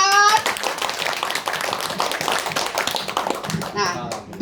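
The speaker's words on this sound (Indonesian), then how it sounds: "mana tepuk tangan yang keras?" An audience at a business seminar bursts into enthusiastic clapping, with bright, rapid hand claps throughout, and brief voices and cheers rising near the start and end.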